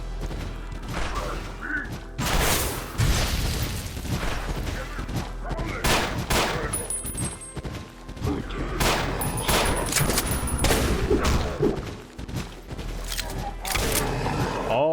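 Sharp gunshots from the Doom mod Ashes crack in quick, irregular volleys throughout, loud and close, with brief mechanical clanks between the shots.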